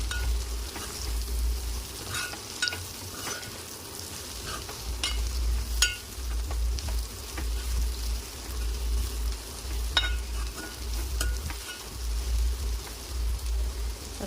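Turmeric being stirred into broad beans frying in a pan: a steady oil sizzle with repeated scraping stirs and occasional sharp utensil clicks, close and alone with no talking.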